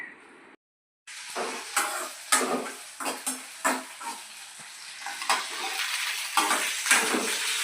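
Gongura and green chili chutney stirred and frying in a pan, with repeated scraping stirs and a steady sizzle close up, no voices.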